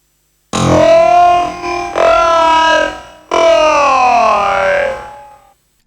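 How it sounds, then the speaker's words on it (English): Vocal phrase heavily time-stretched on an Akai S1000 sampler with reverb and delay, in a 90s speed garage style: three long, warbling, metallic sung tones with a grainy, processed texture, loud and upfront. "we're going to use this Combat Boy part and time stretch the hell out of it using the Akai S1000."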